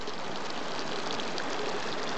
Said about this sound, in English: The hot spring bubbles up out of this rock right here. And over here. And just flows down